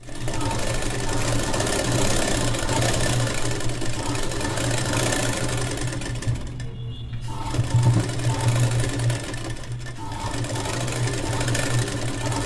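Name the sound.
sewing machine stitching a border on a children's gown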